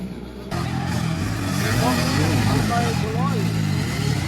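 Enduro motorcycles in a local motocross final heat at Barangay Aluna, Initao, Misamis Oriental, roar and rev in a dense, continuous racing drone, with an announcer talking over them.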